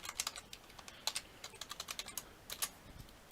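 Quick, crisp keystrokes tap on a computer keyboard as shortcuts are entered, a close rapid patter of clicks in small clusters with brief gaps.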